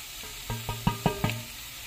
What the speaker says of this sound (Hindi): देखिए 1 मिनट ये सौते कर लिया हमने।